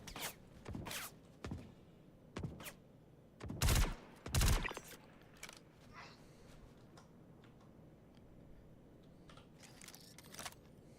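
Sporadic gunfire in the space game Star Citizen: a few sharp, separate shots and a couple of heavier double bursts at moderate distance, spaced irregularly across quiet stretches with faint rustling between.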